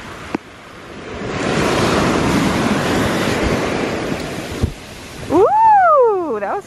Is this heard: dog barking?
no